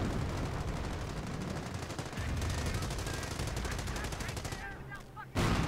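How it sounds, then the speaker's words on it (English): Mortar and artillery fire in Company of Heroes rattles on as dense, continuous gunfire and repeated blasts, loud and sustained throughout with a sudden heavier burst near the end. "Wow, they had so many mortars."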